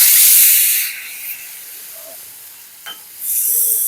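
Tamarind water is poured into a hot pan of oil with curry leaves, setting off a loud burst of hissing sizzle that fades to a quiet simmer, then surges again near the end.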